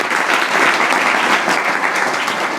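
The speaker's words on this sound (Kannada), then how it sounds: "ಇದೊಂದು ದೊಡ್ಡ ಉಪಕಾರ ಮಾಡ್ತಕ್ಕಂಥ ಗುರುಗಳವರಿಗೆ ಒಂದು ಚಪ್ಪಾಳೆ ಮುಖಾಂತರ ಧನ್ಯವಾದ." An audience at a Shravana month religious discourse claps steadily to thank the guru, a dense, loud, even burst of applause that fills the whole span with no speech over it.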